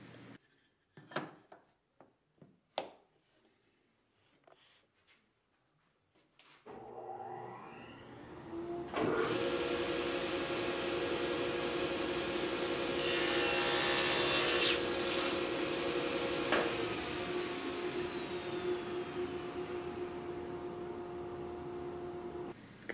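Wood being cut into tapered staves on a simple taper sled in a home workshop: a few sharp knocks, then a steady loud machine whine with a ripping cut that rises midway and tails off near the end.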